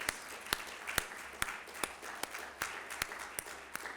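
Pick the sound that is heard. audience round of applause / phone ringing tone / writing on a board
audience round of applause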